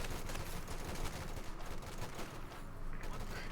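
Dense, sustained gunfire from a Company of Heroes 2 skirmish between OKW and USF forces, with rapid overlapping bursts and shots rattling on loudly and without pause throughout.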